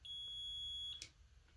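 A multimeter gives a continuity-check beep while testing a space heater's wiring, a single steady high-pitched tone lasting about a second, close and clear, then stopping with a faint click.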